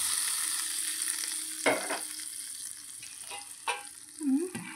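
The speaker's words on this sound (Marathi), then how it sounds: "तयार केलेला तडका छान आपल्याला कढी पकोड्याच्या वरती घालायचं आहे." Hot tadka tempering with Kashmiri red chilli is poured over kadhi pakoda, giving a steady, bright sizzle throughout. Several clinks of a spoon or pan come through, and the sizzle swells briefly near the end.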